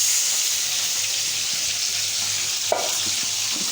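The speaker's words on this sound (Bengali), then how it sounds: "এখন পানি দিয়ে কষিয়ে নেব" Spice masala with salt, chilli powder and green chillies sizzling in a pan as water is poured in, a steady hiss with a brief splash partway through.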